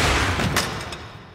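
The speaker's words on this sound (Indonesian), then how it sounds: "Lisa berhasil melumpuhkan si Bandar dengan beberapa tembakan." A burst of gunfire, several sharp shots close together that fade quickly into a dull rumble.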